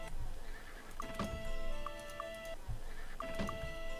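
Horse whinnies from the Might and Magic VI game at Castle Ironfist, a couple of shrill neighs over steady game ambience with faint hoof clops and bright chiming tones.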